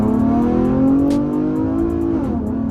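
A Camaro engine revs hard toward 7,000 RPM, a rising, harmonic-rich wail heard up close, with a faint ticking rhythm and no speech.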